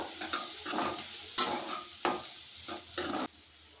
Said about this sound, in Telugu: పసుపు అల్లం వెల్లుల్లి పేస్ట్ ఉప్పు కొద్దిగా వేసుకొని వేయించుకోవాలి ఒక నిమిషం పాటు